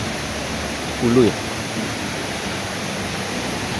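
A steady broadband rush of the Tirto Kemanten waterfall and river on the slopes of Mount Raung pours on unbroken, a loud continuous roar with a brief spoken voice over it.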